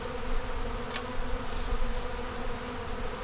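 Honey bees buzzing around an open beehive, a dense, continuous droning swarm close by with a steady hum and no pauses.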